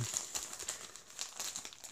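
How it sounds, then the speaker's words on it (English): Plastic packaging for a Star Trek costume shirt being peeled and torn open by hand, a quiet series of close crinkling and ripping bursts at an uneven rhythm. "can I just peel this off? It would be nice if I could just rip the thing open"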